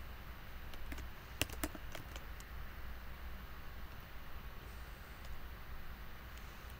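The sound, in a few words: typing code on a computer keyboard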